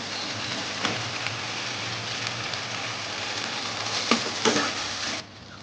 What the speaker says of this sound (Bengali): পনিরটা দিয়ে এবার আমি একটু ভালো করে নেড়ে চেড়ে নেবো